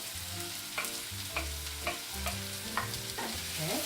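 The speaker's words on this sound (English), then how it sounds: "In go the tomatoes." Tomatoes fry in a hot pan over high heat, a steady sizzle with repeated stirring scrapes and clacks every half second or so, close and fairly loud, no voices.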